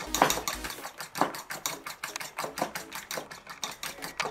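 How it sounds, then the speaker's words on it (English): A fork beats eggs in a bowl for an omelette, making rapid, close, rhythmic clicking and tapping against the bowl that repeats without pause. "I'm going to stir my eggs until they make a foam like feature"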